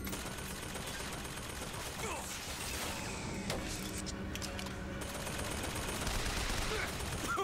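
Gunfire in the video game Bioshock Infinite comes as a steady, dense barrage of rapid shots that continues throughout, with mechanical clatter in the mix and no clear speech over it.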